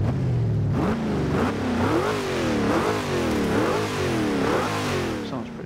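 An Oldsmobile Hurst 442 engine revs hard in a video game, its rising and falling pitch sweeps repeating in a steady rhythm, close and loud throughout with no talking.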